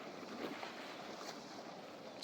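A dhow under sail in the Sailwind video game carries a faint, steady rush of wind and water around the hull, quiet and unbroken, with no voices.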